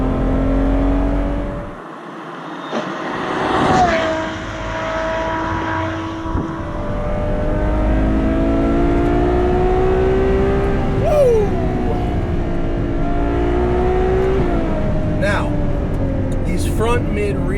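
Ferrari 812 Superfast V12 revs through its titanium exhaust in race mode, rising and falling engine tones with sharp pitch sweeps, heard close and loud with some road noise.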